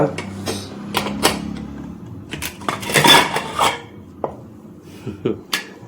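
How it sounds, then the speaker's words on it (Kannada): A pressure cooker lid comes off amid sharp metallic clanks and clatters of the pot and utensils, several distinct knocks close and loud against a quiet kitchen background. "ಕುಕ್ಕರ್ ಓಪನ್ ಮಾಡ್ತಾ ಇದ್ದೀನಿ"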